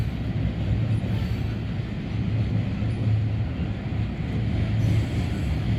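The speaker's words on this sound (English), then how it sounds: "Got some covered hoppers here, some old Burlington Northern ones and some new ones." A BNSF freight train of old Burlington Northern and newer covered hoppers rolls past at Oak Harbor, a loud, continuous low rumble of wheels on rail close by with a faint steady tonal hum.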